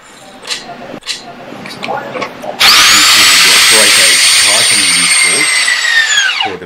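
A power tool drives and tightens steel bolts on a portal frame knee joint connection, a loud continuous whir starting partway in after brief talk and clatter, holding steady then winding down at the end.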